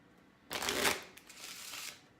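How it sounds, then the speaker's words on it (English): A deck of playing cards is shuffled once up close, a quick riffling burst followed by a softer second flutter, with no speech. "we're going to give this one more shuffle."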